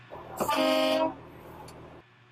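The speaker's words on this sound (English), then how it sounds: "and our air horn." A truck's loud, brassy air horn blasts once for about half a second, then fades back to a low idling engine rumble.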